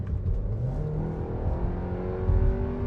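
A tuned Volkswagen Tiguan with a Stage 1+ tune, around 250 hp, accelerates uphill in sport mode, its engine note droning steadily and rising in pitch as it pulls, heard from inside the cabin with no talking.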